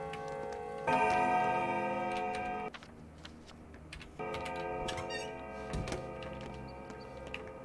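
Clock ticking in the video game Pathologic 2, a ringing mechanical chime-like tone sustained for a few seconds, a pause, then resuming alongside steady ticks, close and fairly loud.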